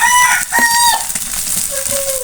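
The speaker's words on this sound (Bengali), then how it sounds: "মোরগ এবার আজান দিচ্ছে" A rooster crows nearby in a few drawn-out, rising and falling calls, loud and clear over faint kitchen background noise.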